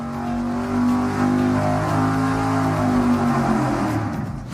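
V8 engine on a dyno fitted with a Dominator carburetor, a loud sustained roar with rising and falling harmonics as it pulls through revs, no talking.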